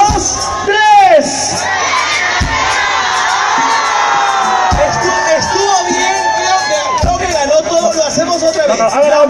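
Two sides of a studio audience shouting together on a count of three, a loud burst of crowd yelling and cheering that stays as a noisy roar, with a host's voice over it.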